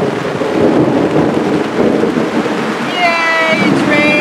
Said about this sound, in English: Yay, it's raining again.